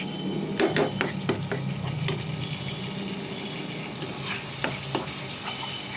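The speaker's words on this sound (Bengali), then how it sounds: "এরপর মশলাটা খুব ভালোভাবে কষিয়ে নিতে হবে তেল ছাড়া অবধি" Spice paste for a potato and pointed gourd curry is stir-fried in oil with a steady sizzling hiss, broken by repeated scraping clicks and taps of a spatula against the pan.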